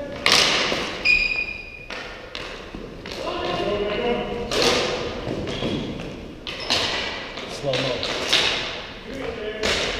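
Pucks striking a goalie's stick during an ice hockey game give a string of sharp thuds and ringing pings at irregular intervals, close and fairly loud, mixed with a murmur of voices.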